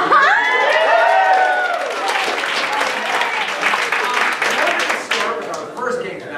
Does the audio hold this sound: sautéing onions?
no